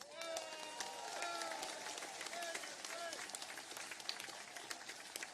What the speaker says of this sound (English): Let's give him a round of applause there.